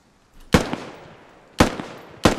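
Three sharp, loud gunshots ring out in the military shooter game Squad, spaced unevenly about a second apart, each with a short echoing tail.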